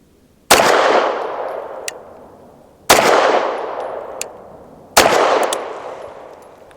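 Three loud pistol shots from a BUL Armory TAC PRO 5-inch firing Blazer 100 grain reduced-recoil rounds, each a sharp crack followed by a long echoing decay, spaced about two seconds apart.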